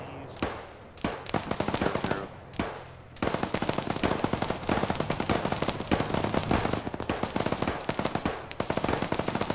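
Rapid automatic gunfire from an Arma 3 firefight, with long bursts and scattered single shots crackling loud and close, near-continuous after the first few seconds.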